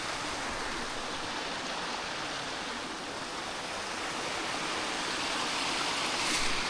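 Steady broadband rush of water pouring from a storm drain beside an old railroad path turned bike path, continuous and fairly close with no voices.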